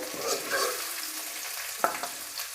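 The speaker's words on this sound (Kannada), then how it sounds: "ಇದನ್ನು ಫ್ರೈ ಮಾಡ್ಕೊಳ್ತಾಯಿದ್ದೀನಿ" Spices fry in oil, sizzling steadily in a pan with a soft hiss, broken by a sharp scrape of a spoon stirring near the end.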